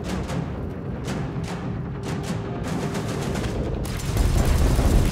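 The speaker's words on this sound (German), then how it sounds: "weil hier 5000 Schüsse auf einmal fliegen" Rapid gunfire rattles in the space shooter video game Chorus, a dense stream of sharp repeated shots that swells into a louder, fuller barrage near the end.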